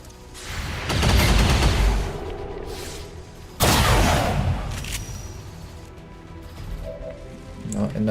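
Gunfire is exchanged in XCOM 2, with two loud, sharp bursts of shots a few seconds apart, each trailing into a rumbling decay, and someone talking in between.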